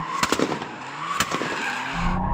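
A Toyota Supra Mk4 TRD slides sideways with a loud, sustained tire squeal, punctuated by sharp exhaust pops and cracks near the start and middle.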